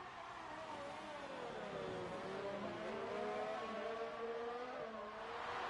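A Ferrari F1 race car on its outlap in a Formula 2-style sim race at the Azerbaijan GP, the engine droning and shifting pitch as it revs and upshifts, steady and fairly faint with no voices.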